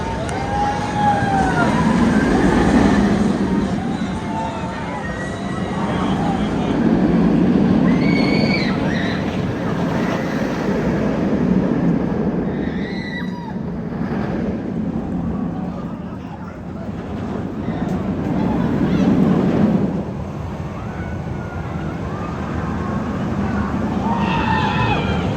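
Batman roller coaster at Six Flags Great Adventure rumbling along its track, with swelling waves of loud roar, clattering and wind noise, and riders' voices and screams rising over the ride.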